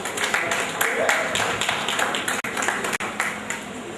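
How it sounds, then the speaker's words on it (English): An audience at a seminar claps in a sustained, fairly loud burst of many hands, with brief dropouts and talk faintly mixed in. "another round of applause for yourselves"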